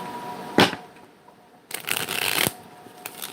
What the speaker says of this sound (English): We got 2 more shuffles to go.